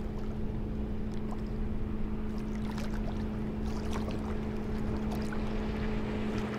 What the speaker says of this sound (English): It's an airboat.